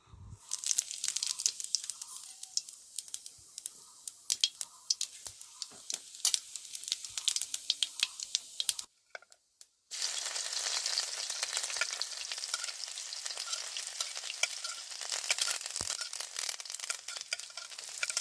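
Cumin and nigella seeds frying in hot oil in a wok, a close, dense crackling sizzle with stirring scrapes, a brief pause partway through, then a steady hiss.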